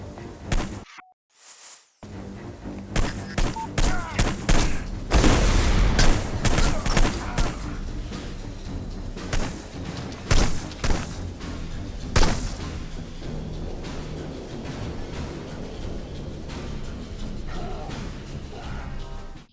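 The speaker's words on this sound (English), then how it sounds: "Let's kill the senator's son one more time with a bomb." Explosions and blasts from a bomb in the stealth game Hitman: Blood Money, a loud crashing burst followed by scattered heavy thuds and gunfire-like bangs over a rumbling game soundscape, with no talk.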